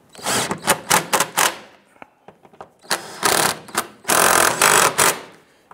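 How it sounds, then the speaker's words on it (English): Bursts of a pneumatic impact wrench snugging crossmember bolts on a 2005-2010 Chrysler 300 during a transmission mount replacement, several loud rattling runs separated by pauses and small clicks. "let's go ahead and snug down our cross member bolt here."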